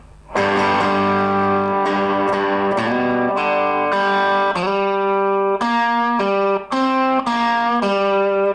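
An electric guitar with a distorted, effects-laden tone plays a riff, a run of loud, sustained chords struck in a steady rhythm, close and alone.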